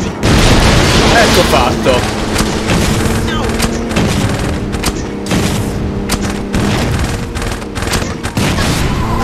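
Rifle-launched grenades in the crime game Saints Row 2, loud repeated explosive booms and gunfire bursting throughout, with someone briefly speaking over the chaos.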